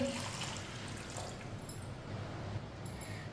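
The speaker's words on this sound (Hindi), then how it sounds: "दो गिलास पानी डाल लेंगे।" Two glasses of water are poured into a wok of washed chana dal, a soft continuous splashing and gurgling wash heard up close at low volume.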